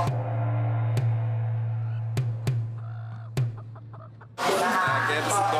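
Live chickens cluck amid a busy Bangkok market, with a steady low hum underneath, a few sharp knocks, and a louder rush of noise near the end.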